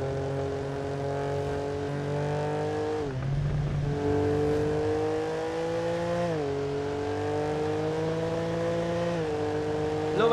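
A Lamborghini Huracan accelerating hard toward 200, its loud engine note rising sharply in pitch, dropping briefly at two gear changes, then climbing again. No voices are heard.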